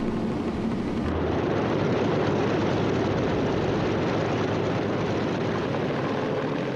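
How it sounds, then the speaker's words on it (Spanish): Japanese warplanes in a 1942 air attack on Midway island drone steadily with a loud, continuous propeller-engine roar and no voices. "aviones japoneses lanzan su primer ataque aéreo sobre la isla de Midway"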